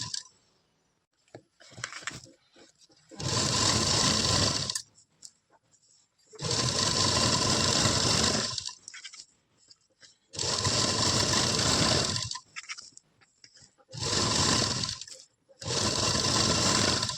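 Electric sewing machine stitching elastic into a salwar waistband, running in four long steady bursts of whirring motor and needle chatter with short quiet pauses between, close and loud with no talking.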